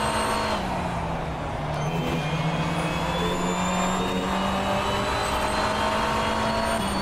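The BMW M V8 Hybrid LMDh race car in rFactor 2 held at full throttle, a loud, steady V8 howl that dips briefly and climbs again as the revs rise, with no voices.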